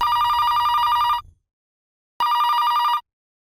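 A telephone bell rings loud and close in two long bursts of steady electronic trilling, about a second each, separated by a silent pause.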